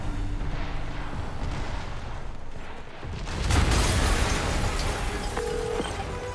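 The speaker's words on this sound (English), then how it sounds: "Yuri, an explosion just... I saw it." A loud explosion in the video game Marvel's Spider-Man bursts out midway over a low game-ambience rumble, then leaves a sustained roaring wash that fades only slightly.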